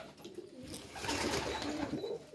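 Pigeons coo softly and steadily nearby in a short stretch, with a faint hiss of background noise and no talking.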